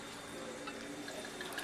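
Sweet wine is poured into a cooking pan of onions, a soft, steady trickle with light dripping and faint splashes, quiet and close with no voices.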